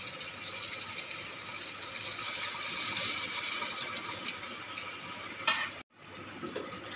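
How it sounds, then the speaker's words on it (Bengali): A little water poured into a pan of Hyderabadi masala chicken curry, a soft continuous splashing and hiss, then a brief stir-like scrape near the end, quiet and close. "এই পরিমাণে অল্প পরিমাণে জল দেব।"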